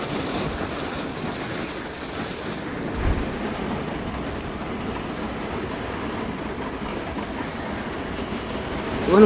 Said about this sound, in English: we had an afternoon rainstorm coming through.